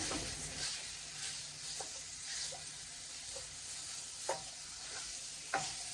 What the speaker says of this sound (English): So what I'm going to do is brown up my sausage